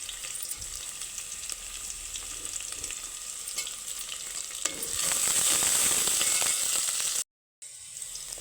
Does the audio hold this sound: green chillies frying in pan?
yes